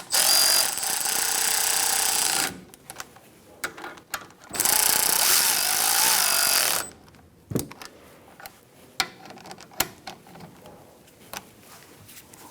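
Front brake caliper bolts on a 2010-2013 Kia Soul are snugged with a power tool: two long, loud, rattling bursts close by, then scattered clicks and knocks of handling.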